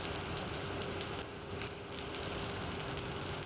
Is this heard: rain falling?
yes